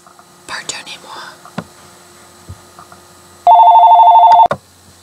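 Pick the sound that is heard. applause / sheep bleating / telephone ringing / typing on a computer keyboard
telephone ringing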